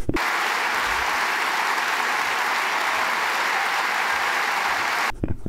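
Applause at an ÖVP party event, a dense and loud burst of crowd clapping that holds steady for about five seconds and then stops abruptly.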